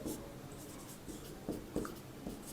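A marker or chalk writes on a board during a physics lesson, giving faint, quiet scratchy strokes in short bursts against a low room hiss, with no talk.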